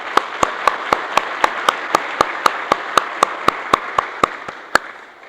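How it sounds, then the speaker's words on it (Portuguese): A Sunday morning church congregation in Balneário Camboriú claps for the choir, with sharp, evenly spaced claps in a steady rhythm of about four per second, fading out after roughly five seconds. "Uma salva de palmas para o nosso coral."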